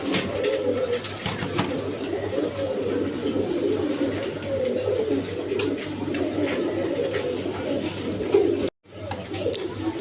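Rasgolla pigeons, a quality show-sized pair, coo continuously in a steady low murmuring chorus nearby, with a brief sharp dropout near the end.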